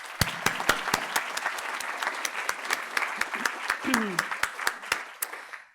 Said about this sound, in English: So if everyone will please join me quickly in giving our speakers another round of applause.